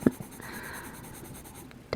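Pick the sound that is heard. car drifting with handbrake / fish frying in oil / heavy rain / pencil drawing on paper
pencil drawing on paper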